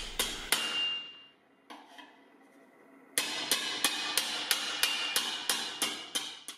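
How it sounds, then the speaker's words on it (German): Sharp metallic blows of a shaping hammer on sheet metal: a few separate strikes, a pause, then a quick steady run of evenly spaced ringing hits. "Die Hammerschläge mit dem Schweifhammer werden gleichmäßig und dicht nebeneinander gesetzt."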